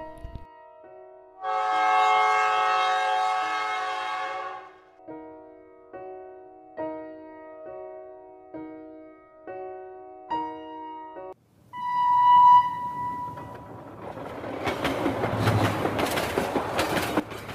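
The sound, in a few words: railway station with train passing, Bengali horror cartoon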